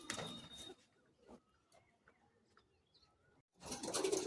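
Madrasi pigeons in a cage give soft, low, intermittent coos and faint chirps, with bursts of louder rustling or wing movement at the start and end.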